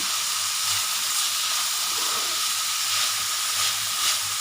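Potato and mixed vegetables fry in a pan for veg noodles, giving a loud, continuous sizzling hiss with small crackling swells throughout and no talking.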